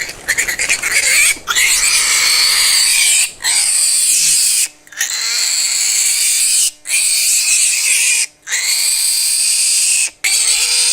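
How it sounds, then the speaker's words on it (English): A female piglet caught in a pit trap in the wild gives loud, close squeals and grunts in long bursts separated by brief pauses. "It was a baby pig, a female."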